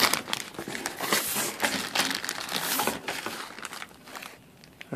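Vinyl weather seal for a 5x8 camper trailer lid is pressed into a cut groove, giving close, quiet crinkling and crackling with soft irregular taps, with no talking.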